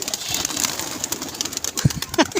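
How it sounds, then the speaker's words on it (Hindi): A pigeon coming in to land, with a short burst of wing flapping near the end over a busy outdoor background of chatter and noise. "ये आ रहा है कबूतर यार।"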